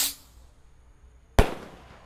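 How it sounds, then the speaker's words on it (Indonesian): A Ski Cruiser Roman candle firework fires outdoors at night, with a fading whoosh at the start, a near-silent pause, then a single sharp, loud bang followed by a hissing tail. "di sini ada mercon Ski Cruiser Roman Candle guys. Ini bisa terbang tinggi ya."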